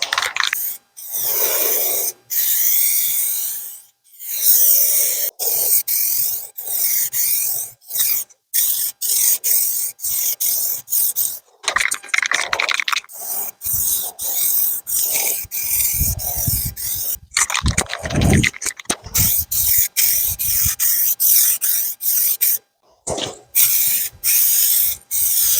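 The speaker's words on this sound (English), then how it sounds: "So you're going to spray it very light, just a nice dust coat over the entire surface that you're painting." Aerosol spray paint hisses onto a car bumper in short, light dust-coat passes, each burst close and loud and separated by brief gaps.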